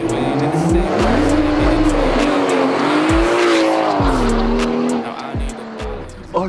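Tuned BMW six-cylinder single-turbo engine roaring close by, revs rising and falling in loud waves with squeal-like tones, and someone talks excitedly near the end.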